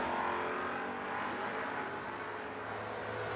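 A Dodge Dart street-legal hot rod launches at a drag strip start line, its engine roaring loud and steady under a dense wash of continuous broadband noise with no voices.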